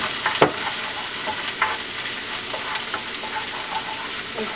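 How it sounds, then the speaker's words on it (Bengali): Cardamom, cinnamon, torn bay leaf and ginger-garlic paste fry in hot oil for a Bengali rohu fish kalia, giving a steady close sizzle with a few sharp clicks and scrapes of stirring. "আমি দিচ্ছি এলাচ, দারুচিনি, তেজপাতাটাকে একটু ছিঁড়ে দিব, আদা রসুন পেস্ট,"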